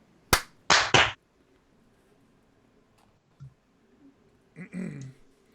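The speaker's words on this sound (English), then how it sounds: "Clap check." Three sharp hand claps close to the microphone for a recording sync check, one followed quickly by two more, then quiet room tone with a brief voice sound afterward.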